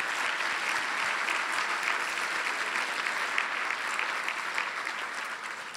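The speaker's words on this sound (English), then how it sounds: "let's give them a round of applause." A crowd applauds steadily at a breakfast event, a dense wash of clapping that holds at an even level and tapers slightly at the end.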